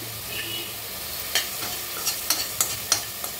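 Poppy seeds and garlic stirred and frying in a pan, a soft steady sizzle with a series of sharp scraping clinks from the spoon striking the pan in the second half, close and with no talk.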